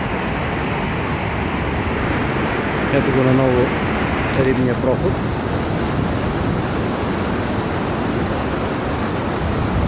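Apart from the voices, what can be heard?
river water rushing at hydropower intake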